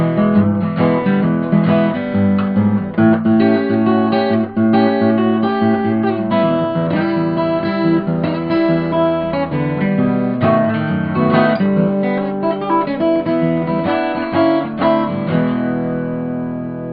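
A steady, fingerpicked blues guitar break with a syncopated thumb-and-finger bass pattern, played alone and close at an even, moderate volume.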